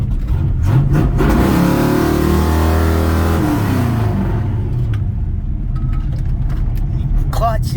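A cammed 1977 Chevy K10 pickup with a failing clutch revs up hard in a rising, swelling roar, then drops back and rumbles off, with the engine loud and near the whole time.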